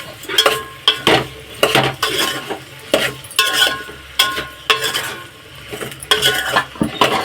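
Okra and tomato pieces cooking in a pan for a Telugu bendakaya tomato curry, with repeated scraping and stirring knocks of a utensil against the pan over a soft sizzle, close and fairly loud, with no talking.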